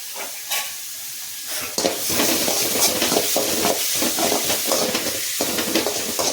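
Raw papaya poriyal stir-frying in a pan, a steady loud sizzle with a sharp jump in intensity partway through, overlaid by repeated scraping and stirring strokes of a spatula against the pan.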